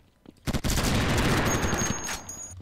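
An overpowered gun in the multiplayer shooter Kuboom fires a long, dense automatic burst that swells into a loud, continuous roar of rapid shots, with a couple of sharp reports just before it.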